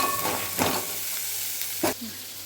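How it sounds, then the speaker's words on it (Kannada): Garlic and onion frying together in a pan for a village-style egg and chicken sambar, a continuous sizzle with a couple of sharp stirring scrapes, close and alone. "ಸೊ ಸ್ವಲ್ಪ ಬೆಳ್ಳುಳ್ಳಿನೂ ಹಾಕ್ತಾ ಇದ್ದೀನಿ. ಈರುಳ್ಳಿ ಜೊತೆಗೆ ಚೆನ್ನಾಗಿ ಹೊಂದ್ಕೊಂಡು ಫ್ರೈ ಆಗಿಬಿಡುತ್ತೆ"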